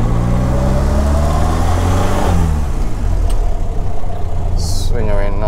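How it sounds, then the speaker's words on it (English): A Morris Minor engine idling steadily outside a garage car park, a close, loud, even rumble with a faint rise in revs partway through and a brief sharp click near the end. "Engine's running absolutely sweet as."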